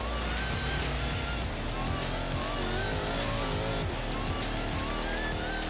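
A car in Forza Horizon 3 heads off into sand dunes, its engine droning loud and steady throughout, with faint tire noise mixed into the continuous game sound.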